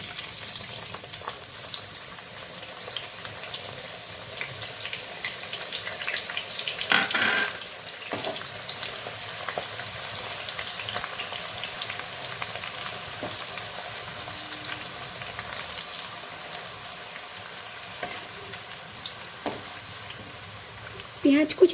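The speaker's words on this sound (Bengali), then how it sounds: "পেঁয়াজ কুচিটা দিয়ে একটু লাল করে ভেজে নেব" Chopped onion fries in a pan with a soft, steady sizzle. Brief scrapes of stirring break in now and then, and the frying goes on alone at a moderate level, fairly quiet and a little distant.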